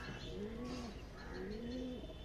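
Andhra Phulshira breed pigeons, a male and female pair, coo in two rounding, repeated calls close by, with a steady background hum and no talking.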